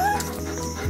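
A yellow Labrador dog whimpers and yips in a few short, high, thin cries, close and fairly quiet over low background hum.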